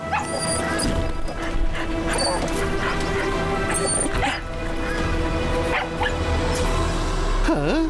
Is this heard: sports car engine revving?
no